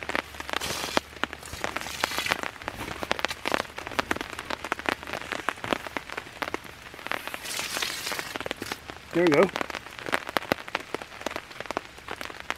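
Steady rain patters on a tarp in the woods, a dense, close crackle of drops with heavier splats throughout; a person speaks briefly near the end.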